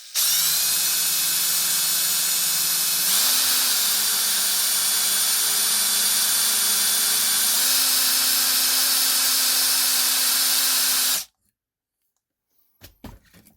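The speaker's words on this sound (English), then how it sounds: "I'm going to drill in some more and see if I can get this deeper" A power drill bores into a REDCAT Kaiju EXT RC car with a loud, steady, high whine that holds for about eleven seconds, its pitch stepping up slightly twice before it cuts off abruptly, leaving faint knocks.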